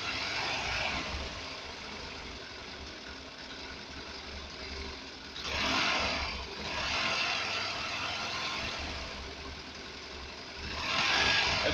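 A motorcycle engine idles steadily close by, a continuous low rumble with a couple of brief swells in level, no one speaking.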